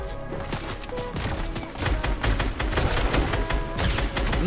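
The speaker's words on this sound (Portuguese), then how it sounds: "Nossa, um tiro. Nossa, dois tiros." Rapid, dense gunfire bursts in Fortnite, continuous and fairly loud, with sharp repeated cracks throughout.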